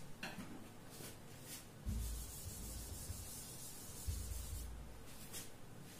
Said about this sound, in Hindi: अब मैं ये रब कर रहा हूं